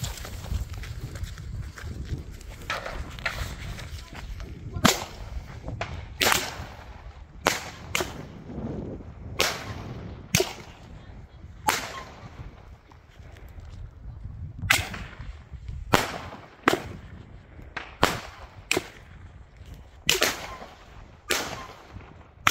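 A cheap 12-shot red Rubin firework battery from Nico fires outdoors, each launch a sharp crack followed by loud bursting breaks, the shots coming in an irregular string over about twenty seconds with no talking.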